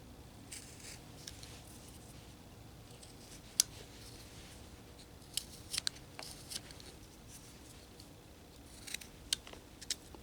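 A blade cutting into the shoulders of a carved figure for a jail scene gives quiet, sparse, crisp snicks and small clicks at an irregular pace, close up against a faint room hiss, with no voices.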